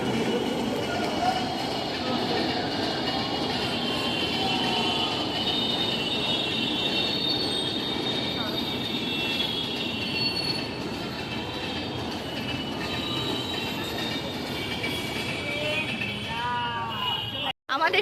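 A train rolls steadily past at close range for the whole span, a continuous loud rumble of wheels and wagons with metallic squeal overtones, ending abruptly.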